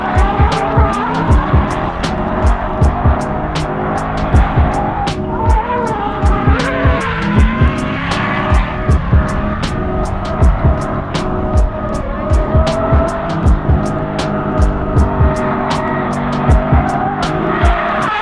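A car drifting at night squeals its tires loudly and continuously for about eighteen seconds, with engine roar surging and repeated sharp bursts as the tires smoke, close to the listener.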